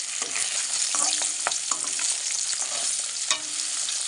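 Rohu fish sizzles continuously in hot oil, a dense close-up hiss broken by small pops and crackles, with no voices.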